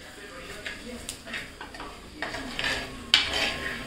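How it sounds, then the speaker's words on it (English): A utensil stirs spiced masala in a pan for a spicy fish curry, giving soft scrapes and metallic clinks against the pan over a faint sizzle, with a sharper clatter near the end. "Now mix. Allow the masala to cook."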